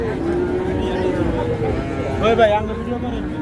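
A crossbreed calf at the Hazratpur cattle market gives a drawn-out moo, swelling briefly louder in the middle, over a busy bed of crowd noise and voices.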